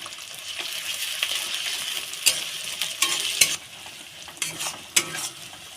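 Onion frying in a pan with ginger garlic paste for chicken biryani, a steady bright sizzle punctuated by sharp metallic scrapes and clinks of stirring.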